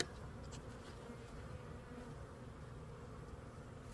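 Honey bees from a walk-away split hive buzz in a steady, dense drone, a faint swarm hum close around the hive with no other sounds.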